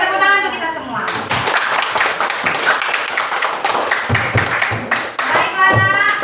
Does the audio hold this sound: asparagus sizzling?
no